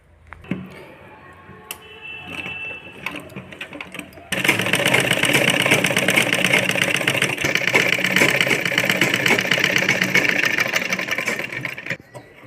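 A sewing machine stitches piping along the front panel of a princess-cut blouse. The motor runs in a steady, loud buzzing whir for most of the clip after a quieter start with light handling sounds.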